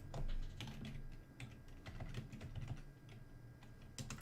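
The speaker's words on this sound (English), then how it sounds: "I guess I'm just going to start typing and then pause and wait for it." Quiet, close typing on a computer keyboard during a coding session, with irregular bursts of clicking keystrokes separated by brief pauses and no talk.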